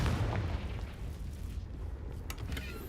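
A Confringo fire spell blast in Hogwarts Legacy lands as a deep, rumbling boom that opens loud and slowly fades into a low roar, with a few faint crackles near the end.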